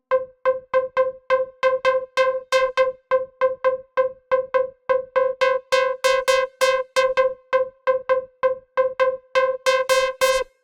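A heavily detuned techno synth lead modeled on a track repeats fast, bright plucked stabs in a steady driving pattern for ten seconds, loud and alone, growing brighter toward the end.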